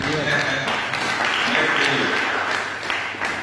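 Church congregation applauding for a brother at a tabernacle service in Daloa, Côte d'Ivoire, a brief, steady burst of many hands clapping together, with voices mixed in.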